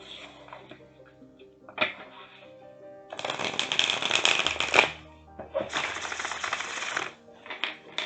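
Tarot cards are riffled and shuffled up close in two bursts of crisp, fluttering clicks, with quieter handling sounds before and between them.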